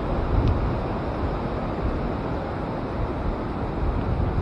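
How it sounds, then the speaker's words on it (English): Steady, broadband wind rushes across the microphone, a continuous roar with gentle swells and no voices. "It just got windy."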